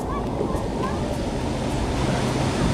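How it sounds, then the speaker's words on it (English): Rushing, churning water of rapids on a tube ride at the Aquadventure waterpark, a steady broadband wash filling the whole clip with faint voices mixed in. "We're going through some rapids."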